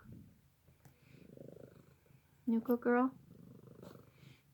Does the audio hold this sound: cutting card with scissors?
no